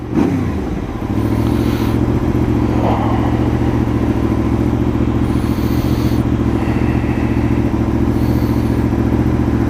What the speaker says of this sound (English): The dude who owned it before did put a decent sounding exhaust on it though.